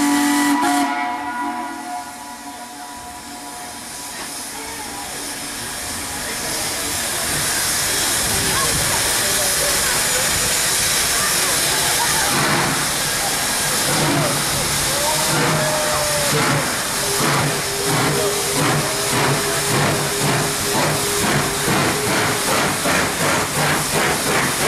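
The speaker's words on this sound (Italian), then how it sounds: "era solo per lei quando passa il treno" A steam locomotive on an anniversary heritage run passes by, a loud hissing, chuffing rush building up and holding steady with rhythmic beats and a whistle-like tone, while people talk nearby.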